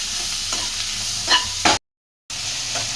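Chopped green chillies and tomatoes fry for a capsicum gravy, with loud steady sizzling, spatula scrapes and stirring knocks close by and a brief silent break midway.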